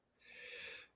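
A single human sneeze, close and fairly loud, heard as a short breathy hiss during a live sports broadcast of fans reacting to the NFL Draft, alone without talk.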